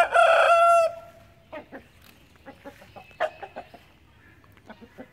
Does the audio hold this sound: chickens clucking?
yes